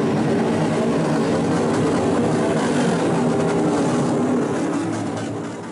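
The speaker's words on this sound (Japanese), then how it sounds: "夜の静寂を切り裂く爆音で走るのは旧車会と呼ばれるバイク集団です。" A dense, loud roar of engines rumbles continuously, like several old-style motorcycles of a kyusha-kai biker group revving together nearby at night in Oarai, Ibaraki, Japan, fading slightly at the end.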